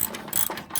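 A ratchet clicks in short bursts while loosening the last bolt on a lawn mower deck during a deck swap, a close, crisp series of pawl ticks.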